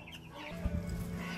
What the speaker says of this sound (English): We'll close the chickens in here